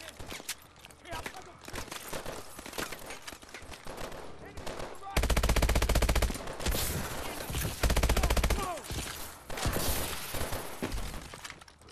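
Call of Duty: Advanced Warfare campaign gunfire crackles continuously in dense automatic bursts and loud rapid volleys, with a voice talking over the shooting.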